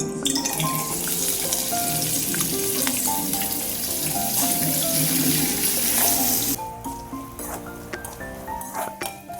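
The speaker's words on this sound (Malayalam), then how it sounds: "ആദ്യം നമുക്ക് തേങ്ങ ഒന്ന് മൂപ്പിച്ചെടുക്കാം" Grated coconut frying in ghee in a pan for Kerala-style kadala payasam, a steady close sizzle throughout with light stirring scrapes, quieter after about six seconds.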